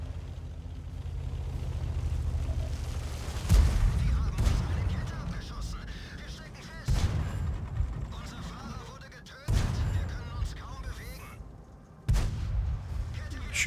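Four heavy tank cannon shots from World of Tanks, featuring the E25 and a T-series tank, boom out at irregular intervals over a steady engine rumble, each blast sharp and loud with a ringing tail.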